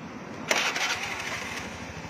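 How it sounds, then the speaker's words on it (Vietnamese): Honda Vision 2012 scooter that cranks but struggles to run fires up with a sharp onset, then holds a steady, rough idling engine rumble close by. "Nổ máy tiếp."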